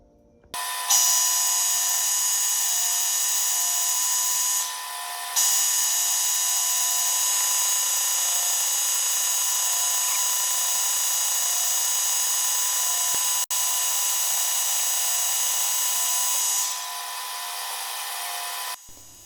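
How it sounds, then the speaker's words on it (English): A metal lathe cuts flame-cut steel plate while turning alignment cones, producing a loud, steady high-pitched whine and scraping that runs in long passes with brief pauses between cuts. "I was having a bit of a bother here getting the feed rate set right so the chips would break off nice"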